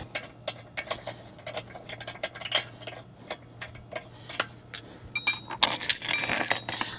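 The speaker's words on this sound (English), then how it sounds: "I think I need to use my wrench one more time just to free these up slightly." Metal clicking and ratcheting of a wrench working loose lug nuts on a car wheel during a tire rotation, a run of sharp ticks and clinks that grows busier and louder toward the end, with no talk.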